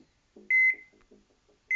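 Electronic beeps from the video game Plague Inc, two short bright tones close together followed by a third after a pause, with faint soft game clicks in between and no talking.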